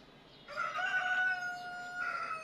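A rooster crows once, a clear drawn-out call at moderate distance over a quiet background.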